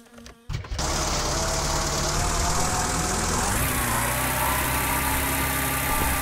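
An old, beat-up family car idles close by, its engine catching after a brief quiet moment and then running loud and steady with a low, even rumble and a faint whine.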